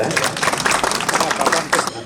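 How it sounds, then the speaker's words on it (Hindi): Audience at a Hindi speaking event claps steadily for a young speaker, a dense burst of applause lasting about two seconds. "इनके लिए एक बार तालियां बजाएं"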